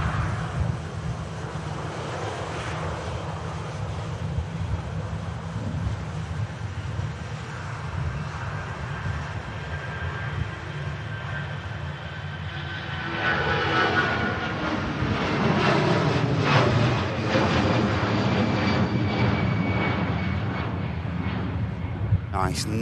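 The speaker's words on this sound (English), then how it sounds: "Nice, noisy, EasyJet departure." An EasyJet jet airliner rolls for departure at Manchester Airport, a loud continuous engine roar with a broad rushing rumble that swells toward the end, wind buffeting the microphone.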